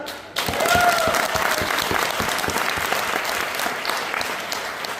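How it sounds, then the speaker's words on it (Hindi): An audience at a training event in Jaipur breaks into loud, dense clapping after a short quiet moment, continuing steadily to the end. "बजाओ ताली"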